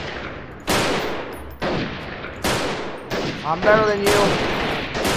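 Gunfire in the guerrilla warfare game Freeman, several loud sharp shots and bursts from different weapons in uneven succession, with someone talking briefly between them.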